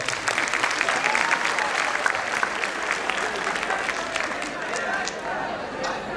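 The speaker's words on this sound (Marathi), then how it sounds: "जरा एकदा जोरदार तुमच्या सगळ्यांसाठी टाळ्या वाजवा." Dense, sustained applause from a large audience at a tribute event honoring mothers, loud and continuous throughout with a steady crowd roar and no clear talk on top.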